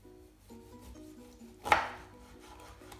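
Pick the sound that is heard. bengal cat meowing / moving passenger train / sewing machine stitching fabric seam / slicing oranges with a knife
slicing oranges with a knife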